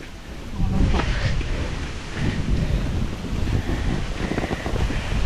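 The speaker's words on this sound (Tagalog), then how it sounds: "Dito naman tayo sa lugar kung saan ay mahangin, no?" Steady wind buffets the microphone with a low rumbling roar, gusting stronger after the first second and staying loud throughout.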